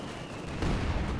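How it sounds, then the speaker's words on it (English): Heavy mortar fire in the Company of Heroes 2 strategy game, a single muffled boom landing mid-clip over a dense low battle rumble, with no talk. "Heavy mortar fire there, punishing here Prabuty's bunch of infantry quite easily."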